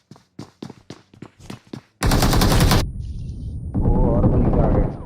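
Gunfire in a battle royale video game fight: a string of sharp single shots, then a dense rapid automatic burst, a brief lull with a mechanical click, and a second sustained stretch of firing and game noise.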